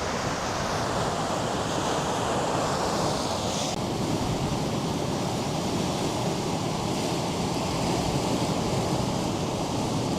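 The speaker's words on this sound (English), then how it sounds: "Can you guys hear the ocean?" Ocean surf rolls continuously along a Hawaii shoreline at sunrise, a loud, steady broadband wash of breaking waves mixed with wind buffeting the microphone, with no voices.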